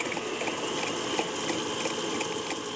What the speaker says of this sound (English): we're going to bring those in the mixer and let them go and cream for